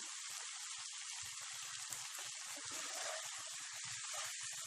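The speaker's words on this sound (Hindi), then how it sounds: "मीडियम फ्लेम पे इसे भून लें।" Chicken roasting with spices in a pan over a medium flame gives a steady, close sizzle and crackle that runs unbroken, with low taps and stirring thumps now and then.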